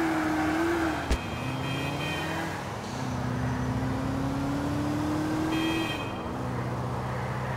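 A Banshee sports car speeds through city streets in Grand Theft Auto, its engine droning steadily close by with rising and falling pitch as it shifts, plus a sharp bump near the start.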